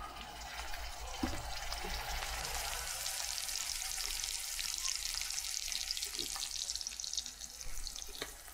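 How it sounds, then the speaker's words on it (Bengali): Onion paste fries in hot oil for a lamb brain and coconut milk curry, giving a loud, steady sizzle close up with occasional scraping knocks of stirring. "পেঁয়াজ বাটা এই তেলের মধ্যে দিয়ে দেব। পেঁয়াজের মধ্যে এই যে দিচ্ছি বন্ধুরা, দেখেন।"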